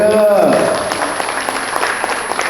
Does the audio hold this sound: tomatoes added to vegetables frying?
no